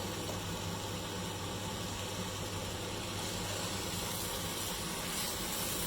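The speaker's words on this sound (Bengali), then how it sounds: "আমরা এখন চালটাকে কিছুক্ষণ ভাজবো।" Soaked, drained rice for chicken pulao sizzles and fries in a pot, a steady, dense hiss that runs unbroken and fairly close throughout with no talking.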